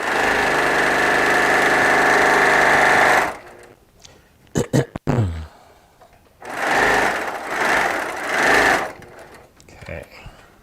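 A sewing machine stitching rows of a quilt together, running steadily and loud for about three seconds, then a pause with handling clicks before two more shorter bursts of stitching.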